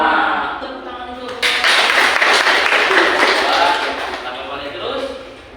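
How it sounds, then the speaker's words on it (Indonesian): A classroom group gives a short round of clapping during a teaching session, a burst of many hands that swells quickly, holds for a couple of seconds, then tapers off, with room noise before and after. "Tepuk tangan dulu."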